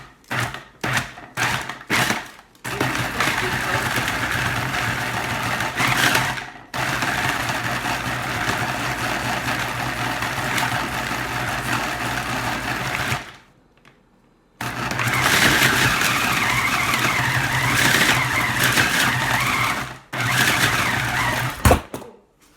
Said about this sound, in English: I was like whipping it so hard with the food processor that actually my phone like fell off the table